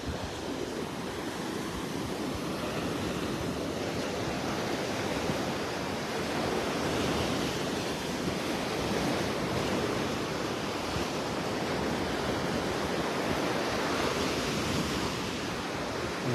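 Steady, broad roar of beach surf on a rainy early morning in North Naples, Florida, continuous waves washing in without a break, with some wind noise.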